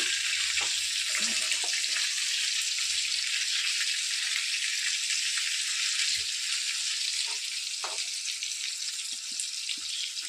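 Fish fries slowly in a pan over low heat, giving a steady, close sizzling hiss with scattered soft pops and crackles and no voices.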